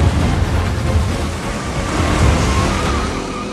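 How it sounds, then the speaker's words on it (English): Massive ocean waves crash against the Malecon seawall in Havana, Cuba, a loud continuous roar of surf and spray that swells and eases without any voices. "It's closed right now for cars because the waves are massive, so it gets all over the road"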